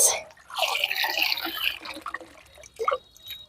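Stored water poured over plants growing in a sack on a rooftop garden makes a close, splashy rush for about two seconds, then scattered drips and trickles.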